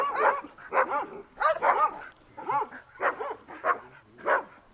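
A pet dog of about two years, during a meeting between a dog trainer and a behaviourist, gives a run of seven or eight vocal yelps or barks in an uneven rhythm, fairly close and clear with no talk over them.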